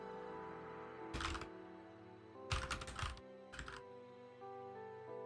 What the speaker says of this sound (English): Apologies for the typing.